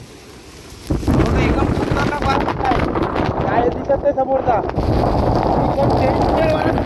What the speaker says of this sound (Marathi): एकदम खतरनाक वारा सुटलाय